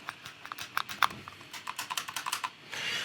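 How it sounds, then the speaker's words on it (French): Quick, light mechanical clicks of buttons being pressed on a Palette Gear modular photo-editing control panel, many small taps in an uneven run, close but quiet, followed by a brief hiss. "c'est vraiment un clic qui est mécanique"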